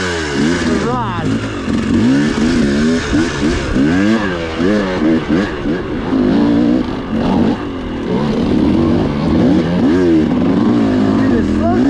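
A motorcycle fitted with an XTNG Gen3 Pro carburetor is ridden hard, its engine revving up and down repeatedly in loud, close bursts, with wind noise and a voice talking over it.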